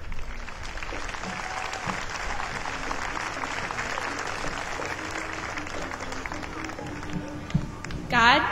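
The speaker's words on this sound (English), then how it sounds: "About a round of applause for Elizabeth Brubaker." An audience at a festival event gives Elizabeth Brubaker, winner of an Americanism essay contest, a sustained round of applause, dense clapping that holds steady throughout and swells slightly near the end.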